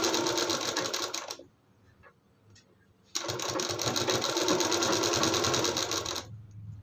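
Sewing machine stitching a blouse in two bursts, a rapid whirring run that stops, a quiet gap with faint clicks, then a longer loud run that tails off.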